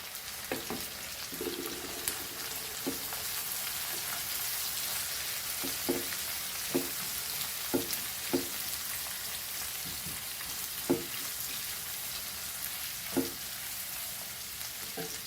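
Garlic flakes frying in a pan for Goan jackfruit foogath, a steady soft sizzle with occasional light clicks and stirring taps scattered throughout, no voices.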